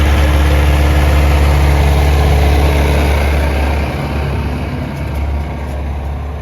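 A tractor engine drones steadily in fifth gear during field cultivation, a loud constant low rumble with a deep vibration and no breaks, heard from up close without voices.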